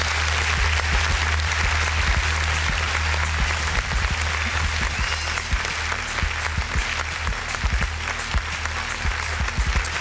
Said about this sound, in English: round of applause for Ann